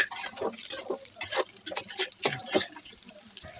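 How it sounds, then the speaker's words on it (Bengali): Soft scraping and light clinking of a utensil stirring dry basmati rice frying in a pan for pulao, irregular strokes at moderate volume with no talking. "এবার মেখে রাখা চালটা দিয়ে ভালো করে মিশিয়ে নিয়ে নাড়তে থাকবো"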